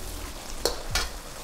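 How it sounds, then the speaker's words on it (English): Sauce for ground beef rice with sesame oil cooking in a pan on high heat, a steady close sizzle with a couple of quick stirring scrapes, no voices. "With the heat back on high, we'll cook the sauce for just 30 to 40 seconds."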